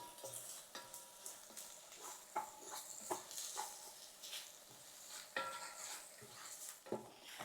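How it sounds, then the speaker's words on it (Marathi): Masala paste frying in oil in a pan for a spiced brinjal pulao, with steady close sizzling and repeated stirring scrapes and clinks of a spoon against the pan, no talking. "आणि वाटण हे तेल सुटेपर्यंत आपल्याला परतवून घ्यायचंय, जरा फ्राय करून घ्यायचंय."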